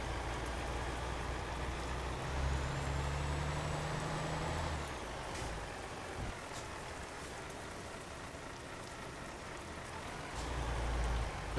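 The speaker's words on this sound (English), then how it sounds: "The rain really just does not help. I'm tempted to turn the rain off completely." Steady rain hisses over the low rumble of a truck driving in Euro Truck Simulator 2, a constant wash of noise with a deeper engine drone swelling in the middle and again near the end.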